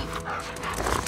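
A dog in The Last of Us Part II barks and pants close by, the sound continuous and dense within a game mix, with no speech.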